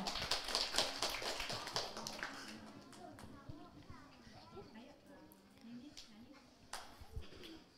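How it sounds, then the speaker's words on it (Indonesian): Quick dense applause at a kindergarten children's talent show, a brisk patter of many hands for about two seconds that thins out, followed by a voice and soft room chatter. "Kepada anak-anak kami beri tepuk tangan yang meriah."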